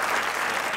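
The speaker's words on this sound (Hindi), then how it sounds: "खैर ताली होनी चाहिए सर के लिए." Studio audience applauding on a Pakistani comedy talk show set, a short steady burst of dense clapping with no voices over it.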